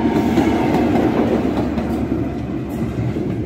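A Cross Country HST passenger train rumbles past close by, a steady broadband roar with faint clickety-clack of wheels and no pauses.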